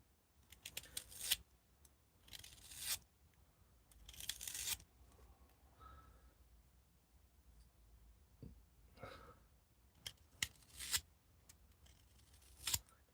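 A knife carves a spoon from dry old wood in quiet, close, irregular strokes, each giving a crisp scraping shave with soft pauses in between.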